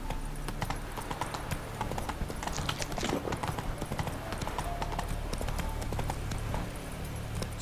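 Roach, a horse in the video game Witcher 3, walks with a steady run of clip-clopping hooves over a continuous low background, and a faint voice is heard briefly.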